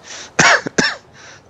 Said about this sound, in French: Faut pas que je rigole trop, sinon je me mets à tousser